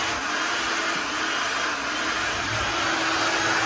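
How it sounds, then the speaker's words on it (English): A hair dryer runs continuously for hair drying, giving a steady, loud, close airy whoosh with a motor whine. No pauses and no voices. "I personally blow dry my hair upside down."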